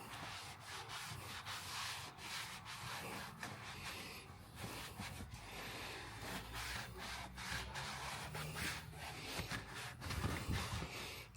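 A damp rag scrubs the interior of a Tesla car in a steady run of close, rough rubbing strokes that keep going without pause and swell slightly near the end.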